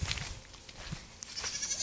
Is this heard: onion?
no